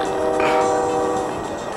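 A train passes near a field where a single-rotor-blade model helicopter is being flown, a loud continuous horn blast with steady harmonic tones over rumbling wheels, holding for the whole stretch.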